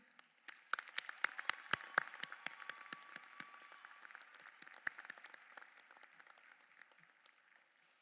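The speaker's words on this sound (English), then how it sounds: "take the time to applaud and acknowledge them now" Audience at a Springbrook graduation ceremony for the Class of 2024 claps steadily for several seconds, a dense patter of many hands with sharp individual claps standing out, gradually thinning toward the end.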